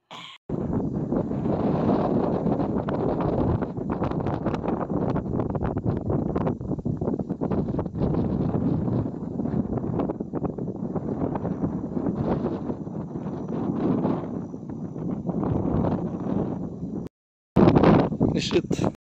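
Cold wind at the Tala viewdeck in Orani buffets the microphone in a loud, continuous roar of gusts for most of the clip, cutting out briefly before another strong burst.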